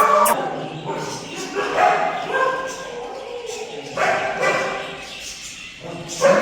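Several dogs in an Ahmedabad animal rescue setting bark, yip and whimper in repeated bursts, fairly close, mixed with people talking and calling out over them.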